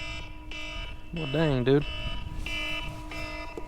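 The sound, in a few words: timer alarm buzzing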